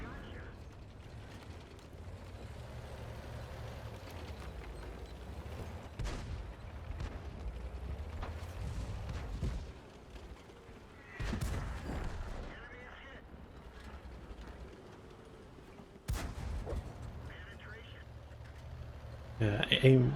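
A tank gun fires in the World of Tanks video game: several sharp, heavy booms spaced seconds apart over a mechanical clanking and engine rumble, with a voice talking throughout.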